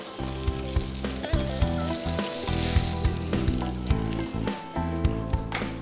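Trout frying in butter in a pan gives a steady, loud sizzle close by, with rhythmic low thumps and clatter running through it and no talk.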